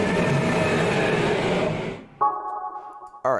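A deep, growling T-rex roar designed from scratch, with a swirling, doubled chorus effect, fades out, then a short buzzy tonal burst follows. No talking.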